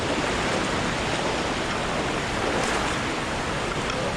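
Ellenborough Falls in flood, a dense, loud, continuous roar of rushing water, steady throughout with no talking.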